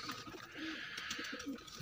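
Pigeons perched nearby give soft, low cooing calls, two or three rounded coos at a modest distance over faint background noise.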